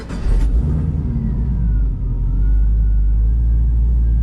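A 1969 Pontiac Firebird fitted with a swapped 2013 Camaro ZL1 supercharged LSA V8 fires up with a brief burst at the start, then settles into a loud, close, deep idling rumble that holds steady with no voices.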